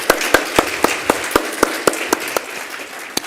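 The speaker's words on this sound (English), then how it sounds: "Let's give the colleagues a round of applause." A small audience at a United Nations global forum on gender statistics gives a round of applause for colleagues, with about a dozen distinct, evenly spaced claps over a steady wash of clapping, fairly close and without speech.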